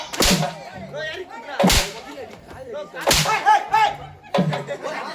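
Whip lashes crack loudly at a village temple ritual, four sharp strikes spaced more than a second apart, each followed by excited shouting and chatter from the crowd nearby.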